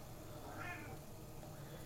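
A single faint, short meow from a house cat, heard at a distance over steady room noise.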